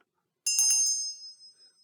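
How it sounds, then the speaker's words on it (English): A single bright bell strike, rung to call a classroom of learners to attention, rings out clearly in silence and decays over about a second. "a bell could be used to politely request attention from learners"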